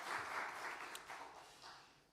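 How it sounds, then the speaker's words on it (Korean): A church congregation at a Wednesday service claps in welcome and thanks, a soft, steady patter of applause that thins out toward the end. "환영과 감사의 박수로 함께 맞이하도록 하겠습니다."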